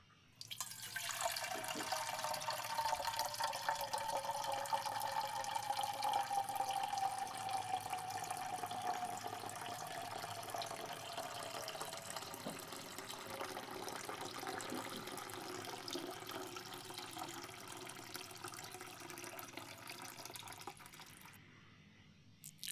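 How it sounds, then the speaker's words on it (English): Water pours steadily into a surgical tray for about twenty seconds, a continuous close splashing stream that gradually settles and fades near the end, with no voices. "Water poured into surgical tray."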